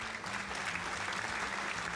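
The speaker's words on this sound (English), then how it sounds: "Insert clapping, thank you." A burst of applause sound effect plays during a Smash Bros Ultimate session, steady dense clapping for about two seconds.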